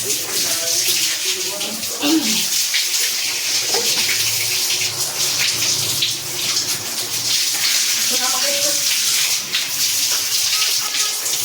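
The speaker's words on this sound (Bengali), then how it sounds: "এটা হচ্ছে চান করার নতুন টেকনিক আবার মাথায় জল ঢাকা" Water poured over a person's head while bathing, a continuous close splashing gush that runs almost without a break, with voices talking over it.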